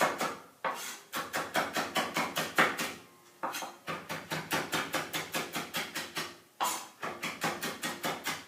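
A knife minces fresh parsley on a cutting board, striking in fast, steady bursts of sharp, close taps that pause briefly between runs.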